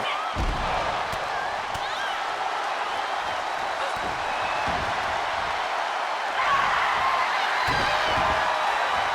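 Arena crowd at a Raw women's wrestling match jeers and roars steadily as a wrestler is pounded down, a continuous wash of crowd noise with a commentator talking over it.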